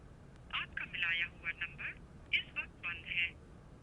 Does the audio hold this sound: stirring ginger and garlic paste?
no